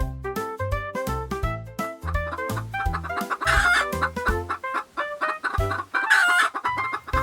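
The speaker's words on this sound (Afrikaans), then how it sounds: "'n Hoenderhaan sê koekoekoe en 'n hen sê pok pok pok pok." Farmyard hens cluck and a rooster crows, loud and close, in a rapid string of repeated calls with no pauses.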